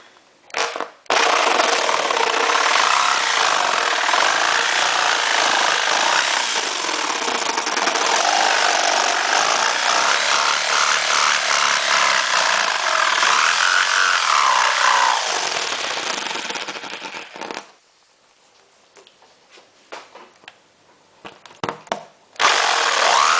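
A power tool cuts pieces for a homemade mosquito trap, a loud continuous grinding whine held for about sixteen seconds before stopping, followed by a few short bursts.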